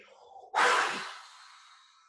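A single long exhale blown through rounded lips during a guided breathing practice, a soft breathy rush that swells suddenly, then tapers slowly over more than a second, close and alone.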